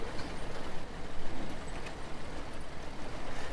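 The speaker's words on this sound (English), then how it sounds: "I can hear the other trucks groaning already." Trucks groan in the off-road driving game Snowrunner, with low engines rumbling and straining at a constant, loud level and faint mechanical creaks throughout. No talking is heard.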